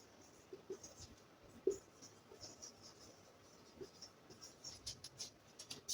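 Numbers are handwritten with a pen on paper, giving faint, close scratchy strokes in short irregular bursts against a quiet background.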